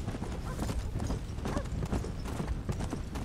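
Steady clip-clop of horse hooves riding through the western world of Red Dead Redemption: Undead Nightmare, a continuous rhythmic trot at moderate volume with no talk over it.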